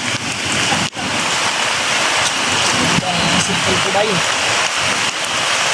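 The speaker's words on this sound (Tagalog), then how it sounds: "Lakas yung ulan." Heavy rain pours steadily and loudly, a dense continuous roar of drops on surfaces throughout, with someone speaking briefly over it.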